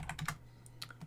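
Computer keyboard keys clack in a quick burst of a few taps, then pause and resume, as a command is typed into an ASA firewall console; close, light and fairly quiet over a low steady hum.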